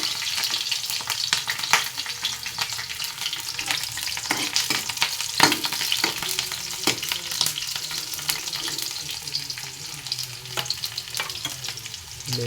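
Garlic and onion sizzle and fry in hot oil in a pan while being stirred, a steady crackling hiss broken by repeated scraping strokes of a utensil, close and continuous with no talking.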